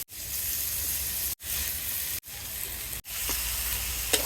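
Eggplant and bajori tengra fish sizzling steadily in a hot pan with oil, a continuous close hiss broken by a few brief pauses, no voices.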